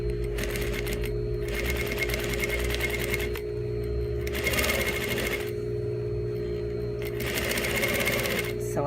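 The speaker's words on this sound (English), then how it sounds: "I'm just going to stay stitch this for now," A sewing machine runs steadily while stay-stitching the first seam of a garment with an invisible zipper, with a constant motor hum and needle chatter that stops and starts in several long bursts, close and clear.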